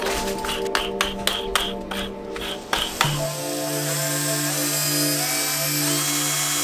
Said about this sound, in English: I could just hold the notebook in one hand and drill with the other